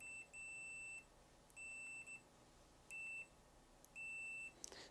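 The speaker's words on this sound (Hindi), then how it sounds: "तो जैसे मैं इसकी प्रॉब मिलाता हूँ तो इसकी बज़र ऑन हो जाती है।" Four steady electronic beeps from a multimeter's continuity buzzer, each lasting about half a second, sound in an irregular rhythm as the probes touch, against a quiet background.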